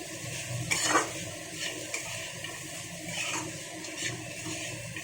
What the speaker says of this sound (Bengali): এবার একটু নাড়াচাড়া করে দিলাম